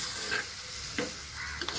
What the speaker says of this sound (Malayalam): ഇനി നമുക്ക് ഇതിനകത്ത് മീനിടാം. മീനിട്ട് നമുക്ക് ഇളക്കാം.